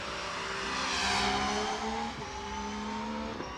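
A V6 race car engine roars loudly and close at a hill climb championship at Doune, its pitch climbing as it accelerates, easing briefly partway through, then pulling hard again.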